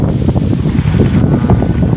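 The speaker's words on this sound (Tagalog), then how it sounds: "sobrang lakas ng hangin pa, ang lamig." Strong, cold wind roars and buffets against the microphone in a constant rough rush on a dark roadside beside a resting motorcycle, with no voices.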